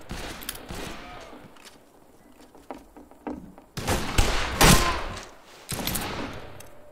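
Semi-automatic dual hammerless pistols firing in a video game, sharp irregular shots near and loud, some in quick bursts of two or three, with quieter distant gunfire between.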